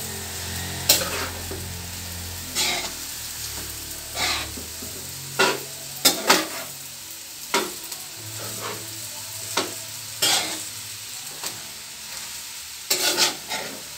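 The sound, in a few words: sautéing and stirring bihon noodles in a pan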